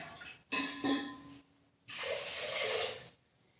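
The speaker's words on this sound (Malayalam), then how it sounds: "കുറച്ച് നല്ലോണം വെള്ളം വെക്കണം, വേവുണ്ട്." Water is poured into a small pressure cooker in a home kitchen for fenugreek payasam, two bursts of splashing, a short one and then a longer, fuller stream, close and alone.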